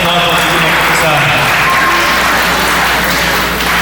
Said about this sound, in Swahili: Huyu mumpigia makofi tafadhali. Watu wapigie sana.